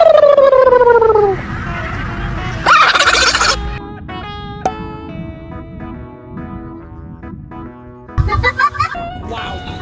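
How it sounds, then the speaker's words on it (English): A pet parrot with red wings cries out in loud, warbling squawks and gobble-like calls, then repeated bursts of chatter, whistles and clicks follow across the stretch, some close and harsh, others thinner in the background. "I just love my new pet parrot."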